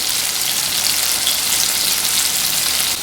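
Tomato pieces and green chilli sizzle and fry steadily in a pan while cooking for tamarind rasam, a close, continuous hiss with no voices.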